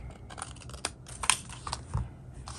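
Scissors trim paper close by, a few quiet crisp snips and crinkles spaced irregularly over a soft background.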